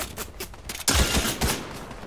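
Rapid gunfire from a weapon in the video game Fortnite, a burst of close shots that swells loudly partway through and then continues in a dense, steady volley.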